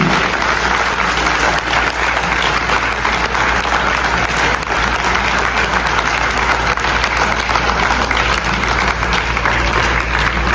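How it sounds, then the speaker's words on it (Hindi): An audience claps steadily and loudly at an Awadhi folk play presented by the Bhartendu Natya Akademi, welcoming performers onto the stage; the dense applause runs unbroken throughout with no voices. "मैं चाहूंगा जब तक वो मंच पर आए तालियां सभी ऊर्जा बनाए रखें मंच की"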